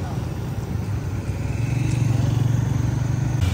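Isuzu LF box truck and a tow truck pulling away after a roadside recovery, a steady low diesel rumble that builds slightly louder midway and holds, close by, with a voice over it.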